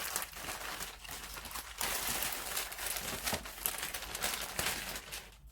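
Packaged synthetic braiding hair being cut open and pulled from its plastic wrapping, loud close crinkling and rustling of plastic that goes on continuously with brief pauses, no voices.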